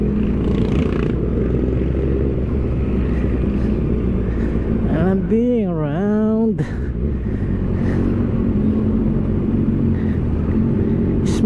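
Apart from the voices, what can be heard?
inline-four motorcycle engine revving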